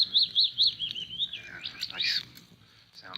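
After a night of rain, small birds chirp nearby in the morning: three quick rising tweets, then a wavering trill and a bright burst of song, loud and clear over a faint low background.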